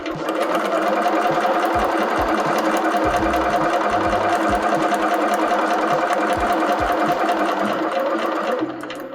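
A sewing machine stitches fabric onto a paper foundation for paper piecing, a continuous, loud, close mechanical whir with rapid needle chatter that runs steadily for about nine seconds before stopping.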